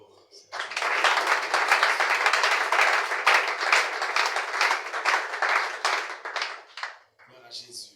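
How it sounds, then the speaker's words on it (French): A church congregation breaks into sustained applause, dense clapping swelling quickly and holding for several seconds before thinning out and stopping. "Acclamons encore."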